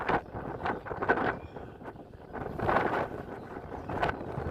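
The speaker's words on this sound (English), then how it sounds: "It's really windy." Wind roars in gusty surges against the microphone, a loud, rumbling rush that swells and fades over a few seconds with no voices.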